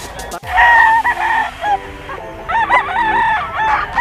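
Gamefowl hens and roosters crowing close by, a loud drawn-out rooster crow followed by further overlapping crows and clucks from the flock, with no one talking.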